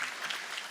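A brief burst of audience applause at a ribbon cutting ceremony for a student-athlete performance center, a dense wash of clapping heard alone.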